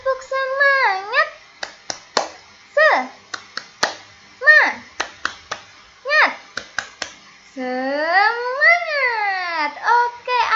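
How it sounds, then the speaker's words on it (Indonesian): Children do a rhythmic clapping chant in an Indonesian classroom lesson, with sharp bursts of hand claps alternating with short shouted sung phrases, loud and close, ending on a long drawn-out cry. "Tepuk semangat."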